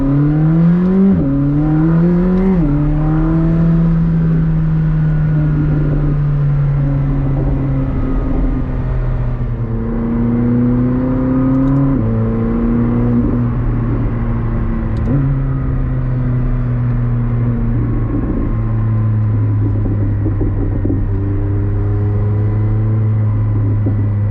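A 2021 McLaren 765LT revs hard at full throttle from the cabin, its loud engine climbing through quick upshifts in repeated rising sweeps, each gear change dropping the pitch before it pulls again, with a steady deep drone throughout.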